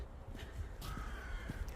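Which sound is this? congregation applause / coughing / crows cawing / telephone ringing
crows cawing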